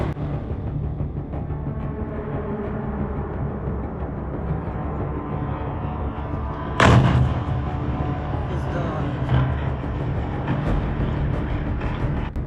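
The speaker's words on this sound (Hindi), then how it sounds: "धीरे धीरे सीधी रेखा में कोई उस पर गोली चलाए बिना वह गोदाम पर नीचे उतरता है और फट जाता है" A drone drops onto a warehouse and explodes in a single sharp, loud blast partway through, set against a constant low rumble and muffled background noise, with a smaller thud following a couple of seconds later.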